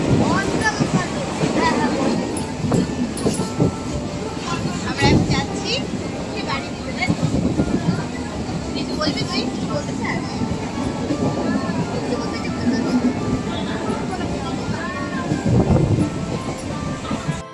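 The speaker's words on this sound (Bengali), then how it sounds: "রানাঘাট টু বনগাঁ লোকাল ধরেছি" A local train from Ranaghat to Bongaon rumbles along with a constant loud clatter and wind roar inside the carriage, rhythmic wheel knocks and scattered voices underneath.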